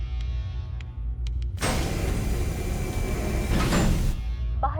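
The outer door of a spaceship in the 2020 sci-fi film Scavengers slides shut with a loud, broad mechanical whoosh lasting a few seconds over a low hum, ending in a soft thud.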